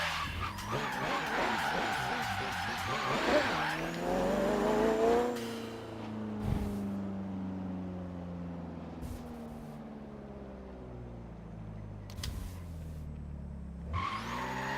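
Racing cars in a Forza Horizon 3 drag race roar with loud, shifting engine tones and repeated tire screeches, close and continuous throughout.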